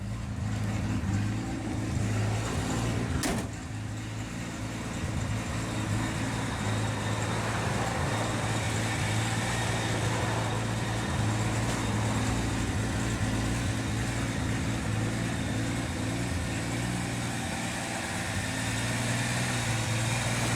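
A 1965 Rambler American 330 two-door sedan with an inline-six idles slightly rough, a steady low engine drone with a constant hum, close and continuous for the whole stretch, no talking.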